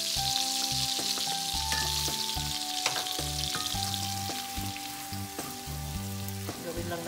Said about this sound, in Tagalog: Gawin lang natin mag-brown yung garlic bago ilagay yung gulay.